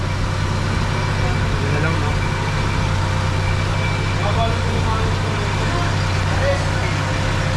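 A newly replaced car motor, fitted along with a new resistor block during a repair, runs with a strong, steady drone and low hum that holds constant throughout, with people talking over it.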